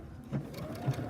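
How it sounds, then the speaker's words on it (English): A sewing machine stitches fabric guided along a black metal presser piece, a fairly quiet steady mechanical whir with a couple of slightly louder bumps over about a second. "I'll sew a little bit faster here."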